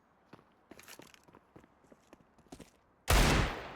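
A single loud, sharp gunshot from a shooter video game cracks near the end, following a run of soft clicks and taps; nobody talks.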